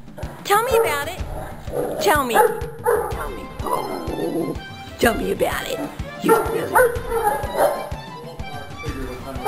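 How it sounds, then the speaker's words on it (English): Irish Wolfhounds playing nearby, letting out repeated loud barks, yips and whimpers in bursts while a person talks to them over the noise. "That's the sound of Wolfhound's playing."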